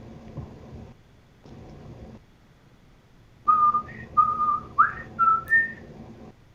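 A person whistles a short tune of clear, bright notes, loud and close, after a stretch of muffled background murmur and room noise.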